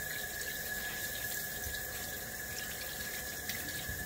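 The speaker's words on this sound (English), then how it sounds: "Rinse some fingers off here." Water runs steadily from a kitchen tap while breaded fingers are rinsed during cooking, a constant close hiss that continues for the whole stretch with no talk over it.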